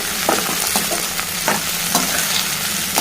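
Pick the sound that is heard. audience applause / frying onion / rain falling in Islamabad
frying onion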